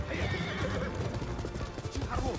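Horse hooves pounding at a gallop with a neigh in the Ghost of Tsushima video game, the rhythmic clip-clop close and busy over game ambience, with a voice faintly mixed in.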